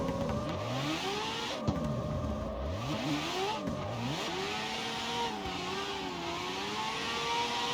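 A car engine in a video game revs up and down repeatedly, with rising and falling whining pitch sweeps over a constant background rush.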